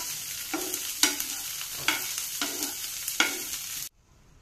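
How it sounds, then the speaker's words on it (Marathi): Corn kernels are sautéed with ghee in a pan, a soft steady sizzle broken by about six regular scraping strokes of the spoon, close by with no voices, ending abruptly near the end. "आता आपण ह्याच्यामध्ये 2 चमचे तूप टाकून घेऊया। आणि आता ह्याला छानपैकी परतून गॅस बंद करूया।"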